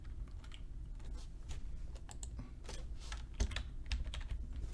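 Rapid clicking of typing on a computer keyboard runs steadily through the whole stretch, with irregular key strikes over a low background hum and no speech.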